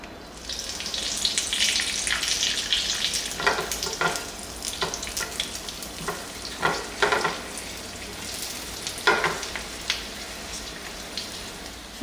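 Ancho chiles fry in a hot pan of oil for a Mexican almond mole, a continuous crackling sizzle with sharper pops and spatters scattered throughout, close and fairly loud with no talking.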